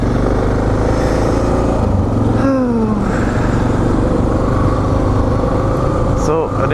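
A Suzuki DR650SE motorcycle ridden at twilight, its engine droning loud and steady up close with wind rush, a brief rising gear change in the middle, and a voice talking over it.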